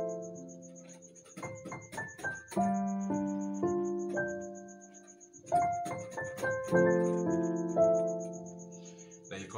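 Piano playing soulful jazz, two phrases of plucked chords and melody notes heard close and fairly quiet, with a faint steady high chirping tone running underneath throughout.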